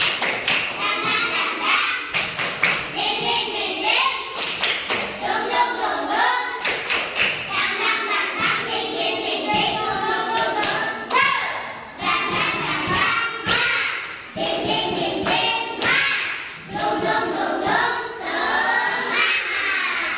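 Schoolchildren perform a rhythmic spirit clap in a group, sharp loud claps in repeating patterns with short pauses, mixed with chanting and shouted responses from the crowd.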